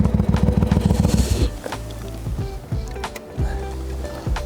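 A 19-year-old carbureted motorcycle engine warming up, with a fast pulsing idle giving way to a lower, uneven rumble and occasional throttle swells, loud and close, no talking.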